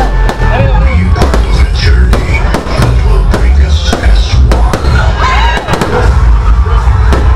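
Fireworks burst close by at an outdoor street celebration, rapid loud cracks and booms tumbling over one another in a dense, continuous barrage with crowd noise underneath.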